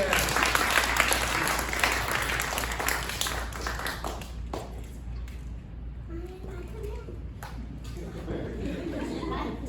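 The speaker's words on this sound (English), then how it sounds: "A big round of applause for our volunteers." Applause from an audience at a Christmas Carol puppet show, dense clapping that thins out midway and then picks up again, with crowd chatter and a voice underneath.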